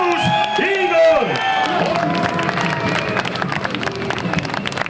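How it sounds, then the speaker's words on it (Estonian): Lively crowd at an Estonian party night clapping and cheering for Igor, a dense wash of applause with whoops, starting alongside tonal music or voices and continuing steadily to the end. "Nüüd teeme Igorile suure aplausi, nii et ta seda kuuleb hotelli!"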